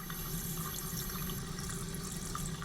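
Steady running water from a tap or faucet in the survival horror game Michigan: Report from Hell, a continuous, even hiss and splash held at a constant level throughout, with no voices.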